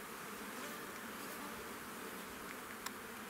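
Honeybees hum in an opened beehive during a hive split, a faint, steady, close buzz with no voices.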